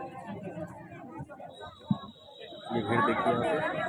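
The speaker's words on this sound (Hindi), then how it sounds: "ये भीड़ देखिए, यहाँ पे प्रदर्शनी लगा है बच्चों के द्वारा।" Dense crowd chatter at a children's exhibition of crafts built from scrap, many overlapping voices close around with a brief louder burst, the babble swelling fuller toward the end.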